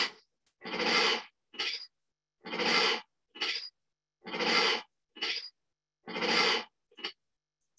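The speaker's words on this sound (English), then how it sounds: "So this is the sound of a tiger saying hello." Bengal tiger chuffing, exhaling through its nostrils in a greeting: four loud breathy puffs, each followed by a shorter softer one, in a steady paired rhythm, close and alone with no talk.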